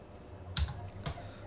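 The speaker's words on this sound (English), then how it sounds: "Just like I am typing it." Two quick, light keystrokes on a computer keyboard, close and fairly quiet, with a short pause between them and no voices.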